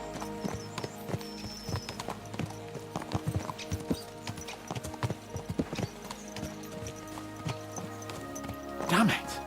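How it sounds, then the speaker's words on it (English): Horses galloping in the medieval video game Kingdom Come Deliverance 2, a steady rhythmic clip-clop of hooves with a whinny near the end, set under a quiet background. "Let's really spur these horses on, eh?"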